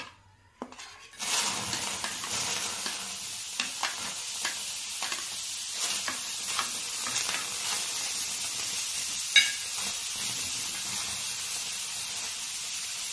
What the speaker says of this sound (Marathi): तवा गरम झाल्यानंतर आपण हे टोमॅटो टाकूया त्यावर